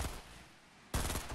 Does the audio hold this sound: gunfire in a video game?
yes